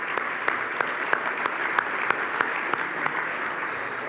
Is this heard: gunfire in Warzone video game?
no